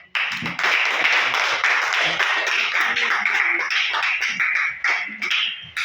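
Audience applause at a French entrepreneurship gathering, a dense, steady burst of many hands clapping that starts abruptly and carries on loudly for several seconds.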